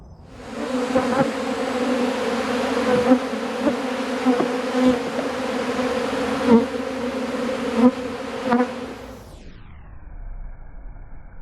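Loud, dense buzzing of bees from an aggressive Africanized hive in a backyard apiary, a sustained droning hum with swelling bursts, then a sudden fade near the end.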